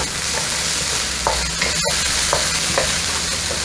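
Onions and garlic fry in hot oil for kung pao chicken, a steady close sizzle with a few soft stirring scrapes and one sharp clack partway through, no talking.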